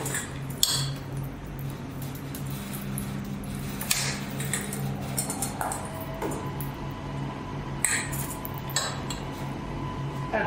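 Cutlery and plates clink and scrape as a dish of deep-fried potato skins is plated, with scattered sharp chinks and knocks spread across a moderately loud kitchen background and no speech.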